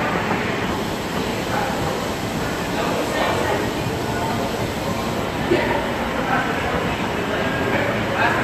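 Steady rumbling hiss of a subway train running underground, heard from inside the car with a constant low roar and faint rattling, loud and continuous throughout.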